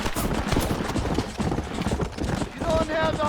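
Horse galloping in the western video game Red Dead Redemption, steady clip-clop hoofbeats running throughout, fairly loud, mixed with game sounds and a brief tonal effect near the end.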